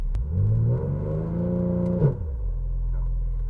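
A Vauxhall Corsa drag car's engine is held at a steady high rev against the brakes during a failed launch control attempt. The revs hold loud and close for about two seconds, then drop abruptly to a lower rumble.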